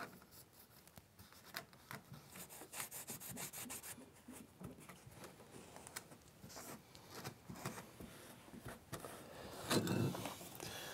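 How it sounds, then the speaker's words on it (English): A bandana soaked with WD-40 rubs over the parts of a Stanley #4 hand plane, making close, scratchy wiping strokes in irregular bursts with a few sharper scrapes. "take these last few pieces and kind of clean them up with just an old bandana and some WD-40"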